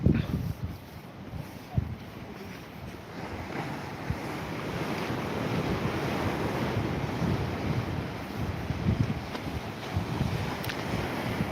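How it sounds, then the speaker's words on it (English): Sea waves wash continuously onto a beach on the Yorkshire coast near Withernsea, a steady surf rush with a few louder breaks early on, mixed with wind. "the sea's not quite as aggressive as it was an hour ago"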